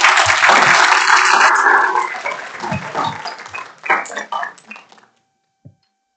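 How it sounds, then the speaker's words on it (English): A council meeting audience claps loudly and densely at first, then the applause thins into scattered claps and fades out, with a brief voice near the end. "So let's give a round of applause."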